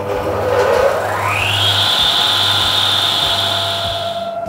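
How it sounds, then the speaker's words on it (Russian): A lab saw cuts through an asphalt sample inside a testing machine, its motor rising in pitch and then holding a steady loud whine over a constant low hum, with no talk. "включаем пилу"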